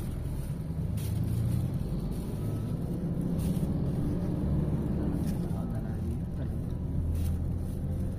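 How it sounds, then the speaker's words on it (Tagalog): Busy road traffic in Baguio City forms a continuous, dense rumble of passing vehicles, steady and moderately loud from start to end, with voices nearby. "Parang American traffic."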